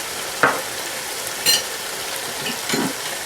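Minced keema fries with garam masala and green chilies in a hot pan, making a steady low sizzle under three brief scraping stirs spread across the moment.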